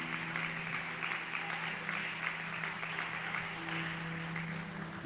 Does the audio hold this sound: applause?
yes